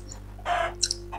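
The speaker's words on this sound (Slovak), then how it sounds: "Sliepka blbá." A hen clucks close by in a rural yard, a short throaty burst followed by two quick sharp squawks over a steady low background hum, with no voices.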